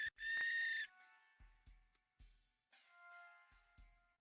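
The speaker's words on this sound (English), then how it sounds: "it sounds very much like that of a distant barn owl" Hooting like a distant barn owl inside a frozen grotto among tall ice spires, heard as one long harsh tonal call followed by a series of fainter, shorter echoing hoots spaced out over several seconds.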